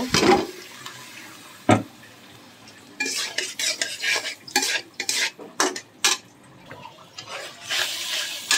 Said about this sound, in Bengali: এবার ডালটা দিয়ে কষিয়ে নেব।